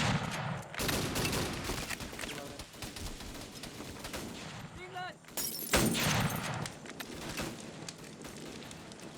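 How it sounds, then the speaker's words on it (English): Sustained gunfire in a Vietnam-era Indochina combat video game, dense rattling bursts and overlapping volleys laying down suppressive fire, loud and continuous with a few sharper cracks, while someone speaks over the shooting. "Alpha, keep with the suppressive fire."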